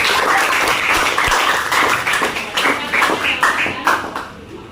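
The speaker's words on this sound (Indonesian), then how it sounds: "Tepuk tangan buat kelompok." A classroom of students claps for a student group, producing dense, loud applause that runs steadily before thinning out toward the end, with no talk over it.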